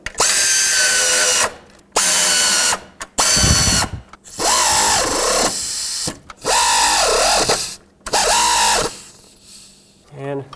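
A power driver runs screws into a throttle-cable bracket on the intake of a 1997–2003 Ford F-150 5.4L V8. It gives loud, close, whirring bursts of one to two seconds, several in a row with pitch dips as each screw seats.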